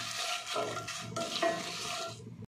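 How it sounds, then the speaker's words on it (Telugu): Dry red chillies and fresh curry leaves fry in a little oil, with a steady close hiss and light stirring rattles for a couple of seconds before cutting off abruptly, no voices. "ఈ ఎండుమిర్చిని కూడా బాగా వేయించుకుందాం"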